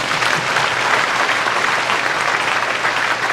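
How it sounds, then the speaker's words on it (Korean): Applause from a concert audience at an art song recital with a choir and conductor, a loud, dense and continuous wash of clapping from a full hall. "큰 박수 부탁드립니다."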